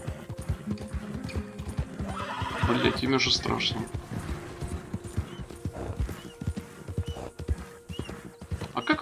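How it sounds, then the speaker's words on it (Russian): A horse gallops in Red Dead Redemption 2, hooves clip-clopping in a steady rhythm with an occasional whinny, while someone talks over the hoofbeats. "Сейчас загоню лошадь и все."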